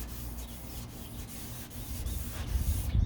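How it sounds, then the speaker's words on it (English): 800 grit sandpaper is worked by hand over the bodywork of a 1969 C3 Corvette, a close, continuous scratchy rub in quick back-and-forth strokes that gets louder toward the end. "I'm going to take some 800 grit with hand because I need to get in this corner"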